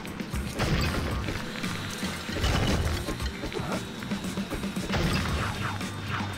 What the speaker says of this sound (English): Don't worry about smashing the crate.